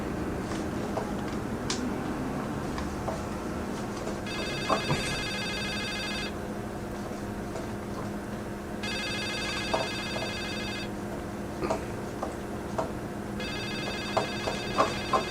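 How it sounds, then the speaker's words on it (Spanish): A telephone rings in the horror game The Suicide of Rachel Foster, three long electronic ring bursts separated by pauses, with soft footsteps and ambient clicks between them. "El teléfono."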